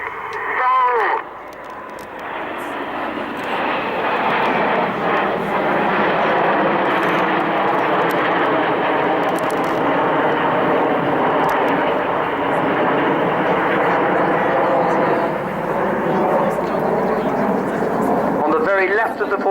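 Red Arrows jets perform a shuttle roll at an air display, their engines a loud, sustained roar that swells and holds throughout, with a commentator speaking over it.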